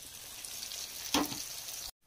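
Hot tempering (tadka) of spices sizzling in oil in a pan, ready for shredded cabbage in a home kitchen; a steady, close frying hiss with a brief louder flare near the middle, cut off abruptly at the end.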